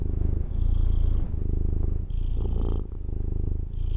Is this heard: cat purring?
yes